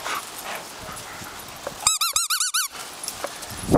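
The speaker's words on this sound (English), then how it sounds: "And the killer attack dogs. They're fighting over." A Doberman and a Shih Tzu fighting, heard as a quick burst of high, squeaky yips and whines in the middle, between quieter stretches of background noise.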